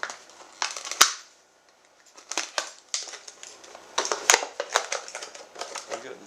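The bottom being cut out of a plastic Coke bottle: close, sharp crunching and crinkling of plastic in irregular bursts, a loud snap early on, a brief pause, then steady crackling.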